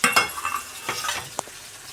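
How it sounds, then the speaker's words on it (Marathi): Tomatoes frying with salt in a pan for a cluster bean curry, heard as a soft sizzle under quick stirring scrapes and a few sharp spoon clinks against the pan, close and fairly quiet. "हे बघा टमाटर हे तळून झाले."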